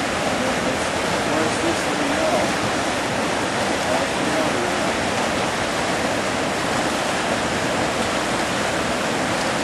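Water pours steadily through a gold sluice as a bucket of material is washed down it, a continuous close-up rushing and splashing hiss with no breaks.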